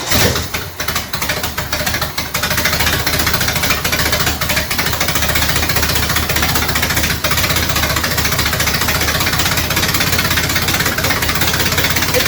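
A 1967 Ford Mustang engine idles roughly and loudly on a cold start at close range, a constant rumbling drone with uneven knocking pulses throughout, no voices.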